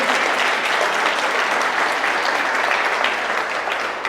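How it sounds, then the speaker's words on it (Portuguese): A church congregation breaks into loud, continuous applause during a sermon, a dense and even roar of many hands clapping with no voices over it. "Vamos dar uma salva de palmas à palavra de Deus"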